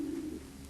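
A racing pigeon bred for long-distance races gives one brief, low, soft coo, faint and close in a quiet loft.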